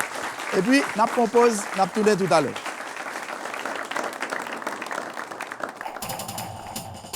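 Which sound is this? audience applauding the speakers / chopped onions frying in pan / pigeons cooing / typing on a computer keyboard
audience applauding the speakers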